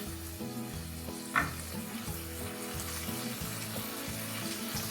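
Chicken bites frying in a wok over a high flame for chowmein, giving a steady, close sizzle throughout with one brief clink near the start and no talking.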